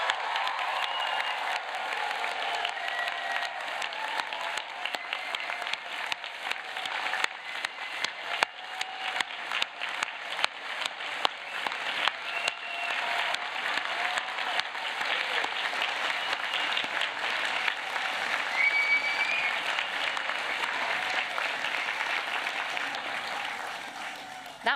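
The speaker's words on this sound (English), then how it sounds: "join me this time in a much more enthusiastic and thunderous applause for our graduates" A large crowd at a university law faculty graduation ceremony bursts into sustained, enthusiastic applause, thick continuous clapping with a few whoops and cheers rising through it, lasting the whole stretch.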